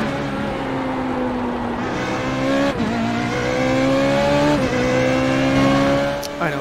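Formula Renault 3.5 race car engine in the iRacing sim, a loud, continuous high-revving howl whose pitch climbs and drops sharply with gear shifts, heard alone without talk.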